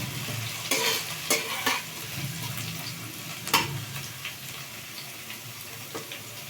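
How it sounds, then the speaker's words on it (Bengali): Potatoes frying in a pan for a watermelon-peel curry sizzle steadily throughout, with several sharper scraping stirs standing out at intervals; close and moderately loud, with no voices. "আলুটাকে আর একটু ভেজে নিতে হবে"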